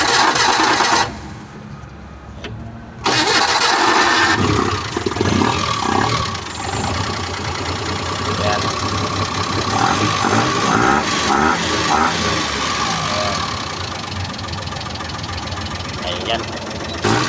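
A Suzuki Multicab engine with a carburetor cranks, falls quiet briefly, then catches and settles into a close, steady knocking idle, with someone speaking over the running motor.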